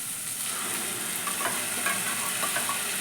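Masala fries in oil in a pan for a rajma curry, a steady close sizzle with light stirring scrapes and no talk.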